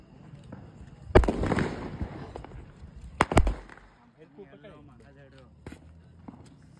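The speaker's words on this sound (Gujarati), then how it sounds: "અહીંયા ડુંગર ઉપર જયરા જાતાની ફટાકડા ફોડે છે." Diwali firecrackers burst on a hill, two sharp loud bangs with crackling tails, followed by quieter distant pops while people talk nearby.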